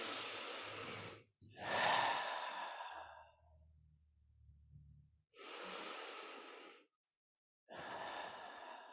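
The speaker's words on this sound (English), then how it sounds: "continue to take lovely long breaths in and out" Long, slow breaths drawn in and released out, some with an audible sighing exhale, come in several separate waves between quiet pauses. They are close and fairly loud, with no talking over them.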